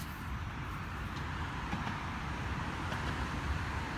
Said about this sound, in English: Sorry for the traffic noise, I'm right next to the road here.